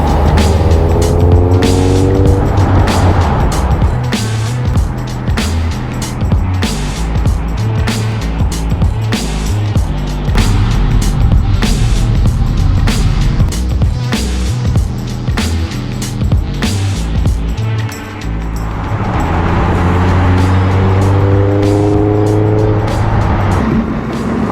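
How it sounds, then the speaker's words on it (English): A Honda Civic with an aftermarket exhaust and intake drives past close and loud, its engine note climbing and falling through repeated revs and gear changes. There is no talking over it. "I really need to do like a really good showcase of the way this car sounds before I take off the exhaust and the intake."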